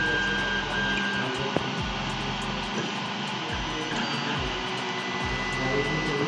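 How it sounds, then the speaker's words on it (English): A 3D printer hums steadily at close range while its motors whir with faint rhythmic ticks, and no voices are heard. "So here you can see the printer started working."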